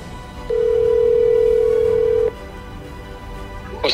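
A single steady telephone ringback tone sounds while a call is placed, one long unbroken beep of about two seconds, clear and loud over low background noise.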